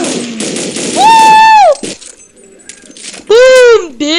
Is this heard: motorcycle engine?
no